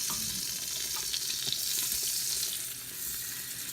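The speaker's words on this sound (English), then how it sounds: "So here we are melting some butter first." Butter melts in a pot on just below medium heat, giving a steady close hiss and sizzle while a utensil stirs with faint scraping taps throughout.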